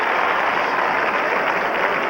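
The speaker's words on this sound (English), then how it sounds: "Now watch the applause." Dense, steady crowd applause fills an arena at the 1988 Olympic men's figure skating long program, a loud continuous wash of clapping with no pauses.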